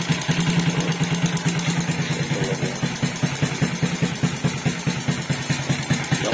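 A Raider J115Fi motorcycle with a 57mm bore idles just after starting, a steady fast pulsing putter, loud and close, running alone throughout.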